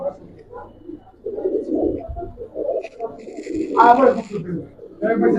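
Soft, low pigeon coos repeat through steady talking nearby, with one brighter call standing out briefly near the end.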